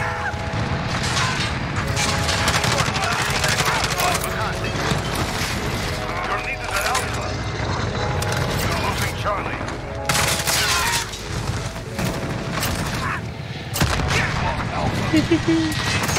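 Rapid bursts of MP7 submachine gun fire in Modern Warfare, dense and loud, layered with other battlefield gunshots and clatter throughout, with a player's voice talking over the action.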